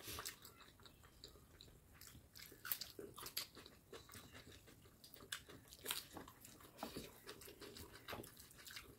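Close biting and chewing of a Bihari-style chicken curry, irregular wet crunching and smacking bursts repeating throughout, quiet and intimate with no talk.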